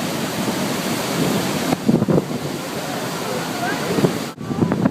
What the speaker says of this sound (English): It's windy from all that water coming off of the falls.